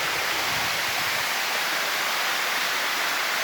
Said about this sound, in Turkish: Samsun Vezir Köprü Esenköy Akkaya Şelalesi. Şelale burası.